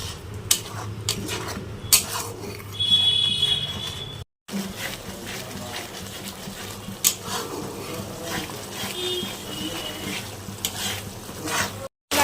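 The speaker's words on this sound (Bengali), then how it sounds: "ভালো মতো মশলাটা কষিয়ে নেব।" Spice paste with salt, turmeric, green chilli and a little sugar frying in a pan for a vegetarian dish, soft sizzling under steady scraping stirs and occasional clinks of a utensil against the pan, close and continuous.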